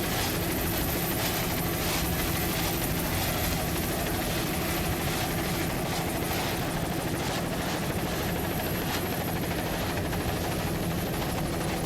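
A helicopter flies over an offshore powerboat race at the 1996 Miami Offshore Grand Prix, its rotor chop a loud, steady, close wash that fills the whole span without a break.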